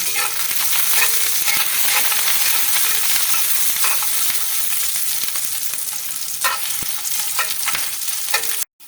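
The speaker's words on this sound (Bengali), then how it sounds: "এতে আমি রসুনগুলো দিয়ে দিলাম আর শুকনো মরিচ। এবার আমি ভেজে নেব।" Steady, loud sizzling of garlic and dried chillies frying in hot oil, with occasional stirring clinks and scrapes, no voices.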